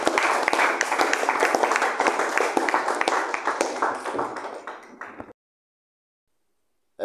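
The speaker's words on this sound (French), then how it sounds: "on peut tous s'applaudir." Group applause closing a workshop, a dense patter of many hands clapping steadily for about five seconds before cutting off abruptly into silence.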